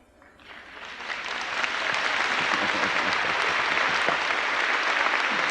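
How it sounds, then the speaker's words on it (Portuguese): A church congregation gathered for a talk on charismatic renewal parishes breaks into applause that starts softly and quickly swells into loud, steady clapping sustained to the end. "vocês ficaram tão satisfeitos que bateram palmas"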